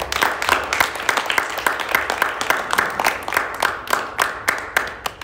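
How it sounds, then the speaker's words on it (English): Audience at a concert breaks into sustained applause, a dense wash of many hands clapping with sharp individual claps poking through, fairly close and steady throughout. "So big round of applause for Deeksha and Lalit."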